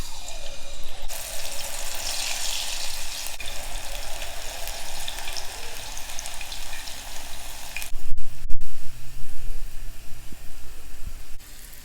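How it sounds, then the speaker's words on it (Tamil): Bitter gourd slices fry in hot oil in a kadai, a steady broadband sizzle with wet crackle that runs continuously, louder and brighter early on, with a few clanks of handling near the end. "இப்போ பாவக்காவை ஒன்றா போட்டு ஃப்ரை பண்ண வேண்டியது தான்"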